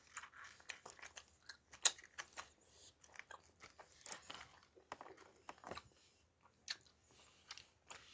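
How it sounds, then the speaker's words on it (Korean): Slow, careful chewing of orange slices up close, soft wet crunches and bites spaced irregularly over several seconds, faint and intimate with no talking. "근데 저 여기가 좀 아파서 천천히 씹을게요."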